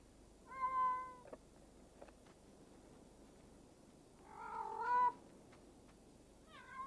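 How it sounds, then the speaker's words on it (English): Two drawn-out, wavering yowls from competing male cats courting a female in heat rise and fall a few seconds apart, fairly faint over a quiet background, with a third cry starting at the end. "The caterwauling between competing males for this promiscuous female"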